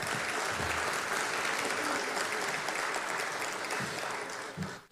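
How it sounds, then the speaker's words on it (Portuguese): Steady, full applause from a conference audience at an Anatel panel session, welcoming a panelist, continuing evenly for several seconds before tapering off at the close. "Palmas para a Cris"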